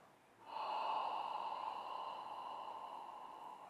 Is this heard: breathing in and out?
yes